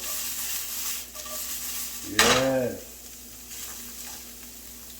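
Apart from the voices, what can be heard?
sizzling while frying in a pan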